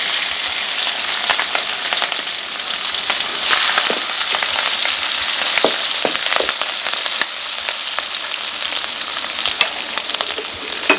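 Curry leaves and green chili pieces frying in hot oil, a loud continuous crackling sizzle with scattered pops and spatters throughout, no voices.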